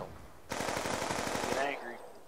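A rapid burst of pistol fire in the video game Black Ops 2 lasts about a second of quick, evenly spaced shots at moderate loudness, then fades out.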